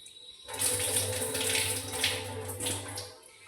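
Running tap water pouring over rice being rinsed in a bowl, a steady close splashing flow that starts abruptly and fades near the end, no voices.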